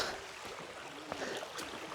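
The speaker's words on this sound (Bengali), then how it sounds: "ঝিরির পানিগুলো নেমে যাচ্ছে এখান থেকে, দেখেন।" Mountain stream water flows down among large boulders in a steady, broad rushing wash, close and continuous with no talk.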